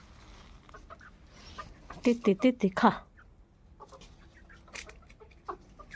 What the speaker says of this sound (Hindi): पीछे मुर्गियाँ खा रही हैं खाना